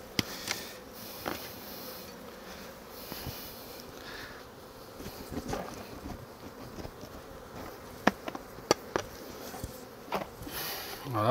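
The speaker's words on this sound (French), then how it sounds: "On va laisser les abeilles sortir" Honeybees buzzing as they stream out of an opened beehive, a steady close-up drone with scattered louder passes and a few faint clicks and taps.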